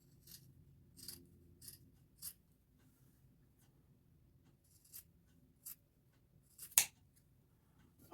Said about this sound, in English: Let me just trim that just a little better.